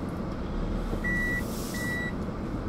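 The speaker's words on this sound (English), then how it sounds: "It says the car doors are open." A car's open-door warning chime sounds twice, two short steady electronic beeps over a loud, rumbling background of engine and traffic noise, no talking.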